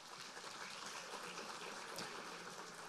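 Audience clapping at a Law Day 2022 event, a faint, dense and even patter of applause that carries on steadily for the full three seconds without any pause.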